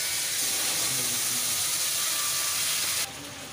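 Spice mix hits a hot pan while cooking chana dal, giving a loud, steady broadband sizzle and hiss close by that runs evenly and then drops slightly near the end.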